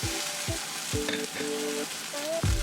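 Steady loud sizzling of tempeh searing in a hot cast iron skillet, with occasional scraping and clinks of a utensil against the skillet.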